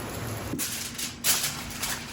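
Rain patters and hisses onto a meat smoker and foil-wrapped meat outdoors, a steady close wash broken by a few louder splashing bursts.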